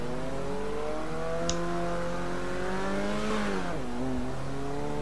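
A turbocharged Alpine car in Forza Horizon 3 revs and pulls through gears, its engine tone climbing steadily, dipping at a shift and rising again, loud and continuous with no talk over it.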